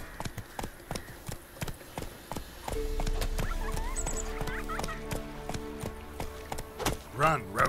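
Roach, the horse in The Witcher 3, gallops with rhythmic clip-clop hoofbeats, first alone and then under a droning music bed, with brief speech and game sounds near the end.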